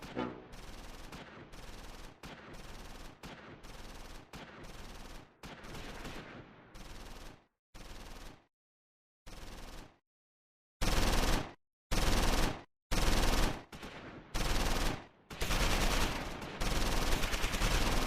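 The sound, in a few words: suppressing machine gun fire in the video game Close Combat 4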